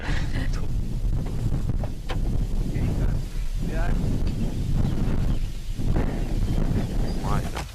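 Strong gusting wind buffets the microphone in a continuous low roar, with faint rustling underneath.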